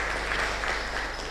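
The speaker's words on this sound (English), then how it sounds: "A round of applause for him one more time." Brief round of applause for a speaker at an academic event on artificial intelligence in healthcare, a dense, even wash of clapping filling the whole moment.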